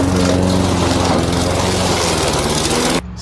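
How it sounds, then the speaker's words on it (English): A lawnmower mulching leaves roars loud and close with a steady engine drone and rough shredding, cutting off abruptly near the end. "mulch your leaves with your lawnmower"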